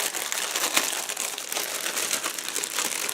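Plastic bag holding sprue parts from a 1/72 Modelcollect E-100 kit with Zwillingsflak crinkles and rustles close up, a steady dense crackle lasting a few seconds with one sharper crunch near the start.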